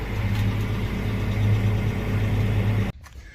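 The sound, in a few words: big tractor engine running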